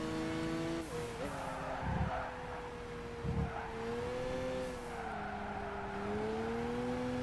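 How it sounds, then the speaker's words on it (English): Car engine held at full throttle in Gran Turismo 5 during a Japanese 80's festival race, a loud steady drone with rising and dipping pitch through gear shifts and a few brief tire noises, continuous throughout. "Okay, we're flooring it."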